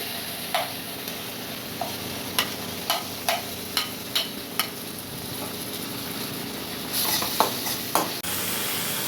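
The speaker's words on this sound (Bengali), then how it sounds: "এবার আমি এই তেলের মধ্যে গ্রেট করে রাখা পেঁয়াজটা আর রসুন বাটাটা দিয়ে দিচ্ছি।" Grated onion and garlic paste sizzle steadily in hot oil for a Bengali katla fish kalia, with a run of close, regular stirring clicks from a spatula against the pan and a louder burst of frying near the end.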